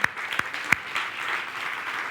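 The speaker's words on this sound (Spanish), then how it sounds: "Dale un aplauso al Señor." Congregation at a Spanish-language church worship service applauding, a soft, diffuse patter of many hands with a few sharper claps standing out near the start, moderately close and continuous for about two seconds.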